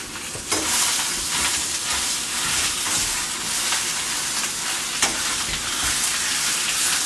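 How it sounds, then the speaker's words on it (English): Zucchini sizzles steadily in a hot pan as tongs stir it around, a dense continuous frying hiss with a few sharper clacks and scrapes, close and fairly loud, with no voices. "Stir that around."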